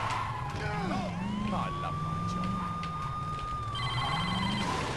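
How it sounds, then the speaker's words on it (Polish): A telephone rings in the video game Saints Row 2, a faint electronic trill over a steady car engine hum and a wavering police siren. "Teraz akurat telefon."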